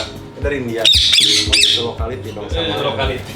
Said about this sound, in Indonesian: Itu Indian ringneck. Indian ringneck.